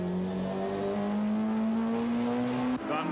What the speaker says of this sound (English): Right in front of me was Paul Radicic in the leading Peugeot